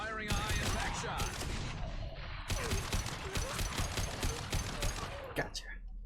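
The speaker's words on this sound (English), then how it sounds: "Firing a high-impact shot!" Gunfire in the shooter Mass Effect 2, including a high-impact shot: repeated sharp cracks in clustered bursts over roughly six seconds amid combat noise, with a distinct final report near the end.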